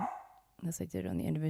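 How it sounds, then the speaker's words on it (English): A dog barks a couple of times close by, the short yips overlapping someone talking in a home studio setting. "That's my dog."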